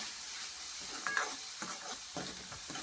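Spice masala of red chilli powder and turmeric roasting in a pan for a drumstick curry, with a soft, steady sizzle and faint stirring scrapes close by, no voices.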